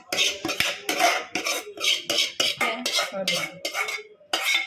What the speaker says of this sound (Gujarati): મસાલો મિક્સ કરીએ